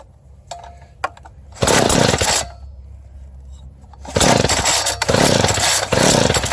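A Craftsman cultivator pulled from a scrap pile coughs with a few clicks. Its small engine then catches in loud bursts, stops briefly and roars back to running steadily, close by, with choke and starting fluid applied.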